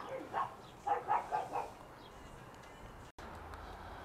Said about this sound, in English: Oh, the dogs are going mad.